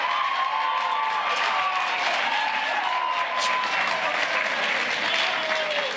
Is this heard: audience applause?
yes